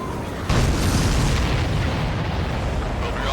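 An explosion in the Ace Combat 7 flight combat video game bursts in sharply after a brief lead-in, then rolls on as a dense, loud rumbling roar that stays strong to the end.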